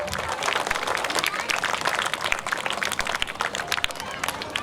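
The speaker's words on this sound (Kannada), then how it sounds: "ಎಲ್ಲರೂ ಜೋರಾದ ಚಪ್ಪಾಳೆಯನ್ನ ಹಾಕಬೇಕು" Audience at a school annual day function claps loudly and steadily, a dense crowd applause that fills the space without pause.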